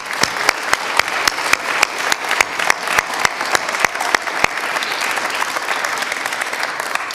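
A crowd applauds at a Boy Scout Troop 457 Eagle Court of Honor: steady, dense clapping that holds at an even level for several seconds, with a few sharper individual claps standing out near the start.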